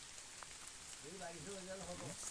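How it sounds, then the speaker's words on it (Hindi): Heavy rain falls in a mountain village beside a damaged cattle shed, a steady close patter of drops hitting surfaces that continues under low talk. "देखो दगड़ियों, तकड़ी वाली बारिश लग गई है"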